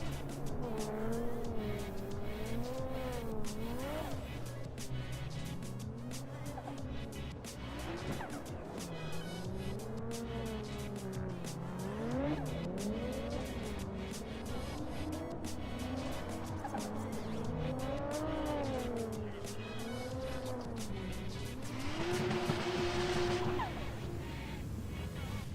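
Karts drift around a kart track during a live drift battle competition, engines wailing and rising and falling in pitch as tires squeal through the slides, loud and continuous, with a brief voice mixed in.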